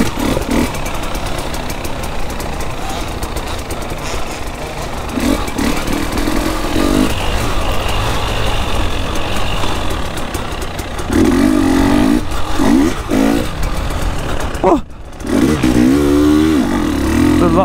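A KTM enduro motorcycle engine running continuously on a woodland trail ride, close and loud, with a steady drone that rises in a series of revving surges toward the end.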